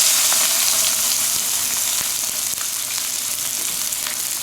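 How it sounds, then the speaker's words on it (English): A stuffed beef roll sears loudly in a hot pan with garlic, a dense continuous sizzle and crackle heard up close, with a few faint clicks of the pan. "now we're going to take our beef roll and lay it right in here, and it's going to really sear it good"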